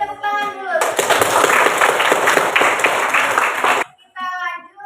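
A school class applauds a student group after a biology presentation on evolution, a burst of brisk, dense clapping about three seconds long, framed by a teacher speaking before and after.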